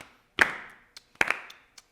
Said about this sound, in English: Start with the clapping.